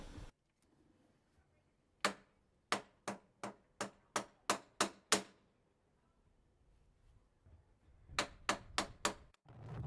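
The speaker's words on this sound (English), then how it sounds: "For many days they sawed and chopped." Wood being chopped as a story sound effect: a run of about eight sharp, evenly spaced chopping knocks, a quiet pause, then another quick burst of four strikes, all close and crisp.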